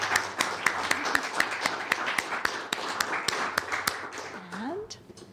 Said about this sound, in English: Let's give them another round of applause for their work